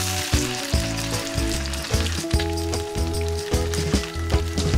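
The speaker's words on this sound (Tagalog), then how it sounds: "Pagkatapos niyan ay piprituhin na natin yung ating isda." Seasoned milkfish (bangus) fries in hot oil, a loud, close, continuous crackling sizzle with bursts of popping spatter throughout, and no voices.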